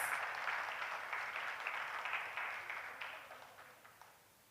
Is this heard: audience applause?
yes